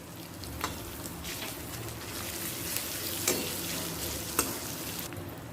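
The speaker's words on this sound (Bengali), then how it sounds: "আদাটা তেলের সাথে মেশানো হয়ে গেছে আমি যে ভাজা গুঁড়ো মশলাটা করে রেখেছিলাম সেখান থেকে সামান্য এখন দিয়ে দিচ্ছি" Ginger sizzles steadily in hot oil for a vegetarian ghugni as roasted ground spice is added, with a few sharp spoon clicks against the pan and no talking.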